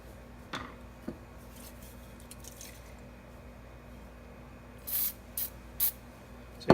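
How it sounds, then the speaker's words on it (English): Several short hissing bursts of rust penetrant sprayed from an aerosol can onto a chainsaw, close up, separated by pauses over a low steady background hum. "So you just spray it on, and that rust penetrant goes down and penetrates."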